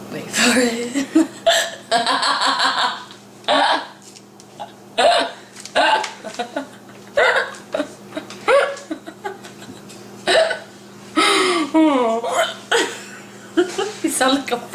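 Repeated hiccups from a woman come in uneven bursts across the stretch, mixed with laughter and chatter, close and fairly loud over a low steady hum.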